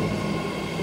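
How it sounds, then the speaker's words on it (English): A three-car BART Fleet of the Future test train rumbles steadily into South Hayward Station with a low droning hum and faint tonal whine, sustained and fairly loud, no voices. "Wow, it's a 3-car test train,"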